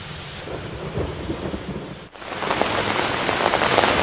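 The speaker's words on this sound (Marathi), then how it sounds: "नागपूर शहर आणि जिल्ह्यामध्ये आणि आसपास पाऊस जो आहे तो सुरू आहे" Dense, steady roar of heavy rain in Nagpur that suddenly grows louder and brighter halfway through, continuous with no voices.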